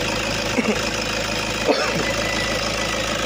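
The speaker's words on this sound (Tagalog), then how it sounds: "Ramdam mo na hindi hirap yung makina." A turbocharged engine with a freshly cleaned intake manifold, EGR and turbo runs at a steady idle with a smooth, even hum and faint knock-like pulses. Nearby there are a couple of soft bumps and no voices.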